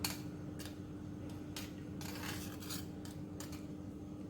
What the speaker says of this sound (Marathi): हे आता मी दही घेतलंय, ते आता मी असं त्याच्यात टाकून 6-7 वेळा तरी फिरवायचं